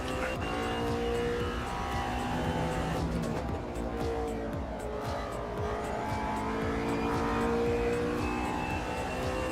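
LMP1 prototype race cars roar in the AMS2 sim during an evening Le Mans endurance race, with steady engine drone and shifting revs as cars run close together, continuous and fairly loud.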